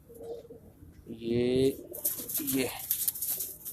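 Soft, close cooing of a Ferozpuri pigeon in a few throaty, rolling phrases, with a brief spoken word and some rustling nearby.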